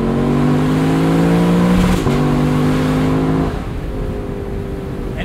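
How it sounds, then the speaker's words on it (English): Exhaust of a 2022 Lexus LC 500 Convertible rises loudly and close, shifts near the two-second mark, climbs again, then drops off into a lower idle-like rumble. "I don't know how Lexus tuned this exhaust so well, but they did a phenomenal job."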